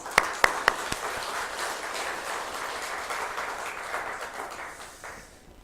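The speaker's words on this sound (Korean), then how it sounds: "하나님 앞에 영광의 박수" A church congregation bursts into applause after a hymn during a Sunday sermon service, opening with a few sharp claps before swelling into sustained dense clapping that fades near the end.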